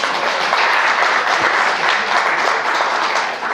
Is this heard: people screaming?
no